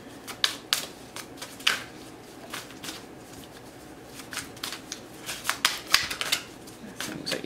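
Tarot or oracle cards being shuffled by hand for a reading, producing close, crisp riffles and soft slaps in irregular bursts throughout, with quiet room tone and no clear talk.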